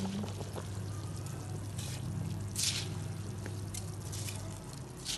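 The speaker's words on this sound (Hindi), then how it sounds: "चावलों में से भी मैंने पानी निकाल लिया।" Water is poured off boiled rice for chicken biryani, a steady close pouring and trickling stream with scattered drips and splashes that runs for several seconds, then thins out near the end; nobody speaks.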